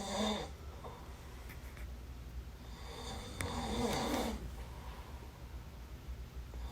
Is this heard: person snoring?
yes